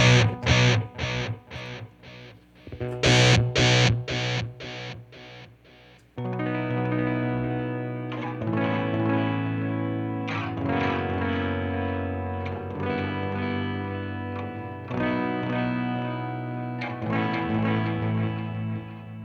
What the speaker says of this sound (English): you can really hear what happens when you have the fuzz